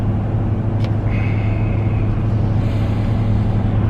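Interior of a moving car with a steady, loud road rumble and engine drone throughout, with a brief faint squeak partway through and no talking.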